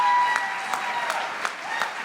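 Audience applause at a hospice charity dance event, a steady wash of clapping from a room full of people with a few sharper individual claps standing out, moderately loud and continuous throughout.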